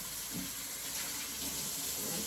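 Hot water runs and pours steadily in a continuous, hissing gush, close by and moderately loud throughout, with no voices over it.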